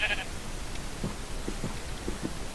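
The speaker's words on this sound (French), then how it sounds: "Allez, mes moutons. Venez." Sheep bleat several times, short wavering calls spread across the moment at moderate distance, with a brief sharp sound at the start and faint human voices mixed in among the flock.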